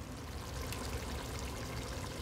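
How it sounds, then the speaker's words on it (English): Tap water pouring into a pot to be boiled for noodles, a steady rushing gush that holds constant at close range with no talk over it. "I am going to put some water on and start boiling my noodles"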